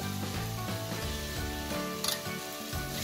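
Salt, red chilli and turmeric sizzle as they are sautéed in a pan with green chillies for a veg momo filling, with a steady frying hiss and a brief sharp stir or clink partway through.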